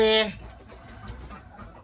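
A hen on a rural home farm clucks while laying eggs in the morning: one short, close cluck at the very start, then only faint low background noise.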